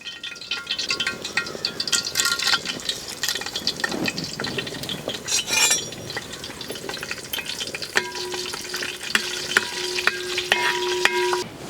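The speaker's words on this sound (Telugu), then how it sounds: "నూనె అయితే కాగింది. ఇందులో బిర్యానీ మసాలాలు వేసుకోవాలి." Biryani spices fry in hot oil with a steady, close sizzle and crackle, while a utensil stirs and scrapes the pan; the sizzling stays fairly loud throughout with no talking.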